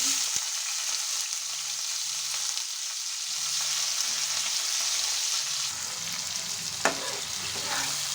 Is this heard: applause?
no